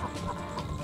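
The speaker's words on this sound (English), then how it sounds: "And, of course, we've got our chickens here." Chickens clucking in the Ratchet & Clank game aboard Drek's flagship, a few quick, close clucks in a brief burst.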